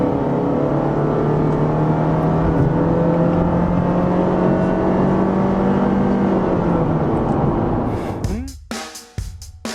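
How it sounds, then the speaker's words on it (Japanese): A Honda Freed (GB series) accelerates at full throttle from 50 to 100 km/h. The engine's drone, heard from inside the cabin, climbs steadily and loudly before easing off near the end. "フル加速してみたいなと思います。 50キロからね、100キロぐらいの加速です。"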